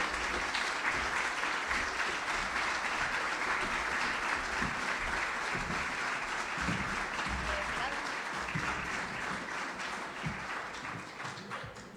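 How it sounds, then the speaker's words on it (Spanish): Audience at a book fair applauding to welcome a speaker, sustained steady clapping from a crowd that slowly fades toward the end. "El aplauso es para nuestra querida Silvia Iparraguirre"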